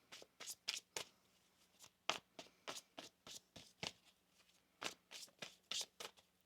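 Tarot cards are shuffled in quick, rhythmic riffling bursts, close and crisp, repeating steadily with brief gaps and no talk.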